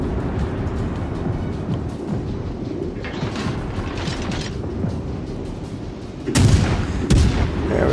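Warship cannons in World of Warships Legends boom over a steady mechanical rumble, with two heavy blasts close together near the end.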